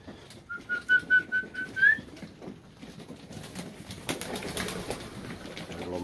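A quick run of high whistled chirps, then close, busy pattering and rustling of pigeons crowding at small feeders of mixed grain.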